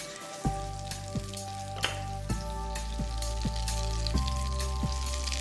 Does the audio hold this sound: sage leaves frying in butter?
yes